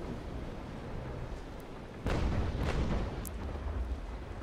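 Frigate cannon broadside fire in the naval combat game Naval Action: a sudden deep, heavy boom rolls out over low ambient rumble, followed by a few more rumbling shots fading back into the steady background.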